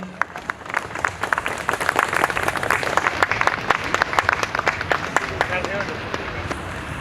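An audience at a community felicitation claps loudly and continuously, many hands forming dense, lively applause that builds and holds for several seconds, with a few voices under it.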